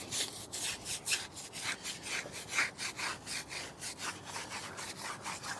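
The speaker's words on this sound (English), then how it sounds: "I really need the tire scrubber size, or the large one, large brush I should say." Large tire brush scrubbing a tire, rhythmic bristly back-and-forth rasping strokes, close and fairly quiet, steady repeated passes with no talk.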